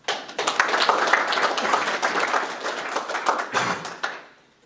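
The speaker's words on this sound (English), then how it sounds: "you also deserve a round of applause" Audience applauding young students at a school board monthly award presentation, a dense, steady wash of many hands clapping for several seconds before fading out.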